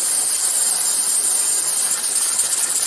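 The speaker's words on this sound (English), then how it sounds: "once steam starts escaping from the spout here, you want to let that vent for 10 minutes" Steam hisses loudly and steadily from the open vent spout of a pressure canner loaded with jars of green beans, a constant close rushing noise with no pauses or talk.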